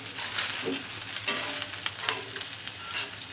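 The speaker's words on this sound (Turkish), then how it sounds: "Biberlerimi kızartacağım." Steady crackling sizzle of peppers frying in hot oil, close and continuous, with occasional louder pops and a few light stirring clanks.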